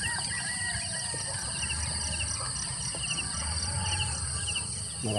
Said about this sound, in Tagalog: Uy, daming sisiw yun, no?